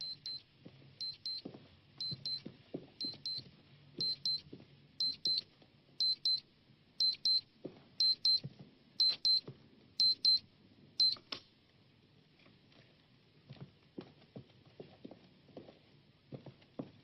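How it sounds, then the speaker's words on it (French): An alarm clock beeps in a repeated pattern of short paired bursts, about one per second for eleven seconds, moderately loud, then stops, leaving faint room noises and footsteps. "C'est bizarre qu'ils n'entendent pas le réveil."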